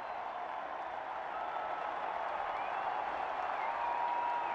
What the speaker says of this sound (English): this crowd is roaring its approval right now of the catch that Freel just made